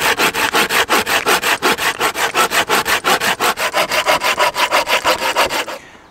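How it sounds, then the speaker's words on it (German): A hand saw cuts through a damp wooden branch outdoors, making rapid, regular rasping back-and-forth strokes, loud and close, about five per second, stopping abruptly as the cut finishes. "Dann sägen wir es mal ab."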